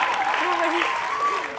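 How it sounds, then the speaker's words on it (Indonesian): Studio audience applause on the Family 100 game show, a steady dense clapping wash lasting throughout, with a host's voice running over it. "Silakan tepuk tangan untuk Mudi."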